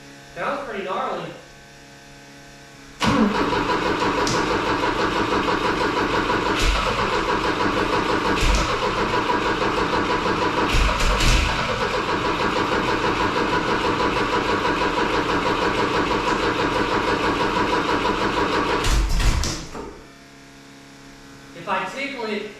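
A 1971 Volvo 1800E four-cylinder engine cranks and catches into a rough, loud idle for a long stretch, then stumbles and dies, followed by another brief crank attempt; someone talks before and after the running engine.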